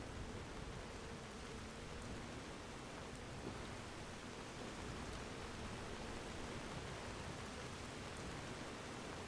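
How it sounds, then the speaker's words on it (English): Steady rain falls in Skyrim, a continuous even hiss of downpour across the whole stretch with no breaks and nothing else standing out. "now it's raining"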